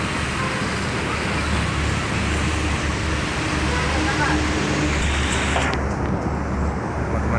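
A steady, rumbling intercity bus engine runs close by at departure over constant road traffic noise, holding an even loudness throughout.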